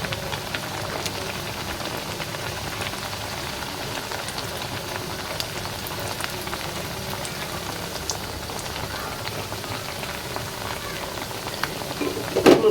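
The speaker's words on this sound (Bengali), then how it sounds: "এই দেখো তেলটা কিন্তু গরম হয়ে গেছে, যে ডুবো তেলে আমি এগুলো ভেজে নিব সুন্দর করে।" Pitha dough made with flour and boiled potato fries in hot deep oil, a steady dense crackle and sizzle with scattered sharp pops, close and continuous throughout.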